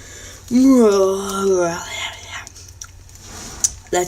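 A voice imitates a foghorn with a long low droning moan, then trails into slurred mumbling and breathy noises.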